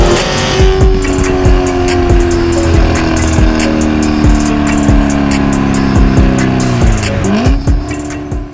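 A Chevrolet C7 Corvette Z06 drives hard, its engine note climbing steadily under load with a brief shift and dip near the end, loud and close throughout, tire noise mixed in.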